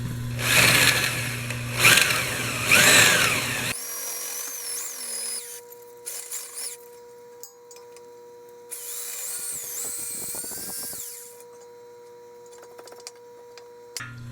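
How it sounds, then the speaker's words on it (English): Drilling out a frozen axle bolt on a Wheel Horse Model 401 with a shortened bit: bursts of loud harsh drill noise, then quieter stretches of whining, scraping metal contact and a later renewed surge of drilling. "I'm going to move this drill bit around some and enlarge the hole a bit."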